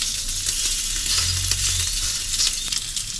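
Bacon crisping in a pan on a cooking stove inside a VW T4 camper, a steady close sizzle and crackle with a few small scrapes and clinks mixed in.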